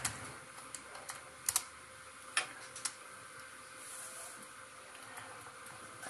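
Sparse, faint clicks of keys on a computer keyboard as a password is entered, a few scattered taps over a quiet background hiss.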